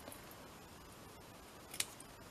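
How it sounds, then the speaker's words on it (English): Scissors snip once through excess paper craft material on a small hat-shaped paper clip ornament, a single short crisp cut against a quiet background. "Now we want to just cut some of this off."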